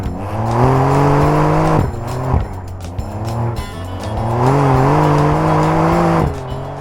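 A Porsche 911 Dakar engine revving hard and loud while climbing Sahara sand dunes, rising and falling in pitch through repeated bursts of acceleration.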